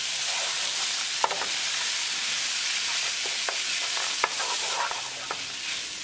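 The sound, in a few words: stirring shredded canned chicken with sweet peas in pan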